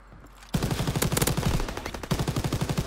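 MG42 machine gun in Call of Duty WW2 opening up after a brief quiet moment, rattling off loud, rapid sustained bursts with a short break midway before the fire resumes.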